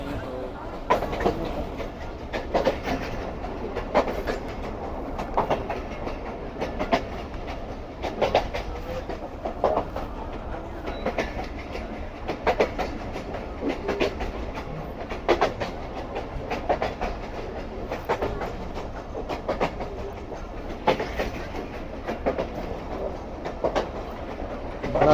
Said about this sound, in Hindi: ट्रेन हमारी दोबारा से आहिस्ता आहिस्ता आगे बढ़ रही है दादू की तरफ